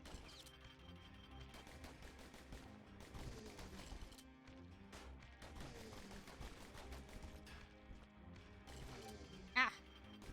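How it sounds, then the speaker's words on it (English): Gunfire in the video game Bastion, with bursts of repeated shots over a busy music and sound-effects backdrop, plus a sharp louder crack near the end; speech is present in the mix. "Shooting at me."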